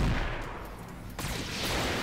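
Gunfire in the tactical video game Roguepoint, a dense continuous rumble of shots and booms with a sharp burst near the middle, loud and close throughout.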